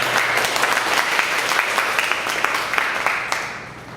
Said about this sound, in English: Give Kevin a big applause.